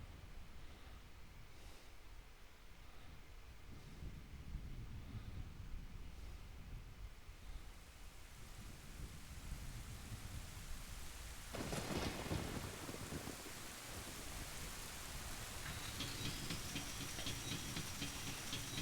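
A thunderstorm in the video game Ocarina of Time: steady heavy rain hisses throughout, with a sharp thunder crack about two-thirds of the way in that gives way to a long rolling rumble.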